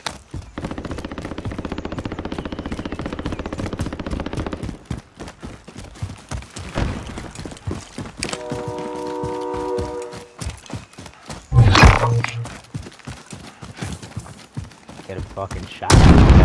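Gunfire in an online shooter game, sharp shots coming in bursts and rapid volleys with a couple of louder booms, heard under excited talk from a player.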